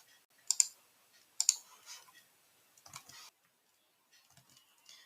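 Keys on a computer keyboard are tapped in a few quick bursts of crisp clicks while searching data in an Excel spreadsheet, close and fairly quiet with short pauses between strokes.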